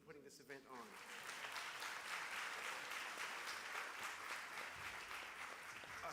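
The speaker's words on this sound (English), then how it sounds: "you can give them a round of applause" Audience at a congressional town hall event hosted by the NAACP claps in a sustained round of applause, a dense, even patter that swells after a brief start and carries on throughout, with faint voices underneath.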